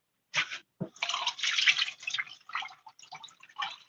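Water poured into a pot for Jamaican cornmeal porridge gives a close, splashy trickle in uneven bursts after a couple of drips, with no talk.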